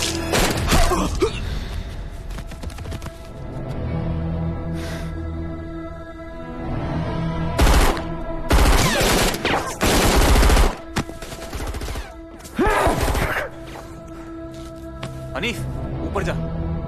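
Gunfire in a film scene comes as several loud, sharp bursts of shots in clusters, with agitated voices shouting and pleading between and over them.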